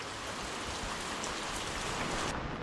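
Heavy stormy monsoon rain pours down in the Konkan during flooding, a dense, steady roar of water with no break, close and loud throughout.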